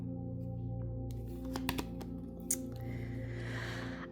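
A deck of tarot cards is cut and shuffled by hand, giving a few close, crisp card slaps and soft riffling rustles over a quiet background hum.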